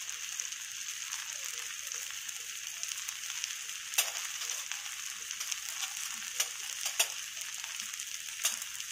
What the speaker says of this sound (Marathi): तांदूळ इथे व्यवस्थित परतून झालाय.